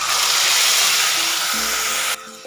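Ground ginger and tomato paste dropped into hot frying oil while cooking a Bengali potoler korma, giving a strong steady sizzling hiss close by that cuts off abruptly near the end.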